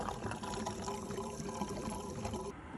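About five liters of fuel are poured into a vehicle's tank, giving a steady close-up gurgling trickle that cuts off near the end.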